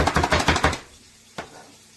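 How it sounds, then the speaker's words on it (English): Green onions being cut quickly, a burst of about six rapid chops on a board followed by a pause and one last chop. "This isn't my favorite way to cut up green onions, but I'm being kind of lazy tonight."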